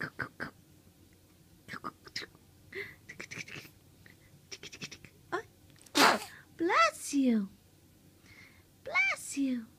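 A baby's small sneeze-like bursts break through soft babbling and breathy murmurs, with an adult voice nearby; several short sharp puffs cluster toward the end, close and moderately loud.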